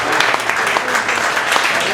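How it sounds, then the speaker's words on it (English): Audience at a Poetry Plus event breaks into loud, dense applause, a steady broadband wash of clapping with a voice talking underneath it. "Give a round of applause for Kay"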